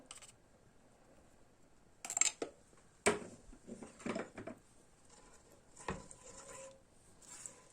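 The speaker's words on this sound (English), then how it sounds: "Just keep mixing it up until it thickens up nicely" A utensil scrapes and clinks against a pot while lemon sauce with salt and black pepper is stirred for artichokes with vegetables; quiet, irregular metallic taps and scrapes with short gaps between them.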